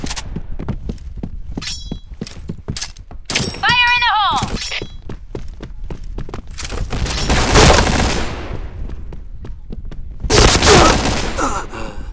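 Gunfire in a shooting video game, with rapid sharp shots and thuds scattered throughout, bursts of heavier noise, and a tonal game effect partway through, all close and loud.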